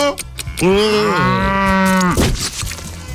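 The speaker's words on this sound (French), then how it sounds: "Et notre ami la vache" A cow moos once, a loud, close, drawn-out bellow about a second and a half long, with a sliding pitch and short noises before and after it.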